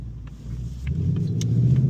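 A 2025 Ford Mustang GT is driven through the night, its engine giving a steady close low rumble that swells slightly, with a few faint clicks and no talking.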